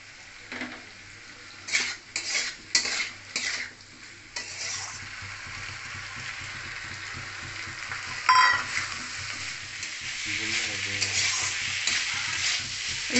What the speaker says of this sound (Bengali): এবারে আমি সব দিয়ে ভাজি, ভালো করে ভেজে নিতে হবে।